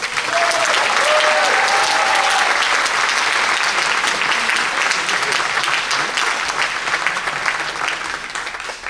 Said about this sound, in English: A 30-minute non-stop masterpiece like this deserves another round of applause.